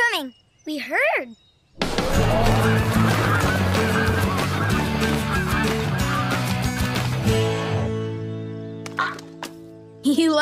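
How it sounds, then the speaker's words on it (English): A flock of geese in a Paw Patrol cartoon honks in a loud, dense, overlapping chorus that starts abruptly and runs for several seconds, with cartoon voices calling out just before it begins. "The geese are coming!"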